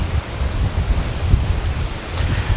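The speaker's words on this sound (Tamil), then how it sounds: "நல்ல காற்று." Wind sweeps across a forest trail near a canal, a steady rushing, buffeting roar that is loud and close and dominated by low gusty noise, with no voices.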